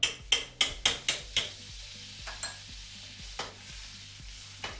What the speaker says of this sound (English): we're gonna cook some baby prawns here. Okay. Add a tablespoon of butter.